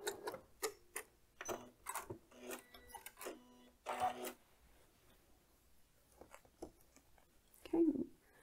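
A sewing machine stitches quilt binding and runs off the end of the fabric, in several short rhythmic bursts of rapid needle clatter separated by brief pauses, fairly close and clear, with no talking.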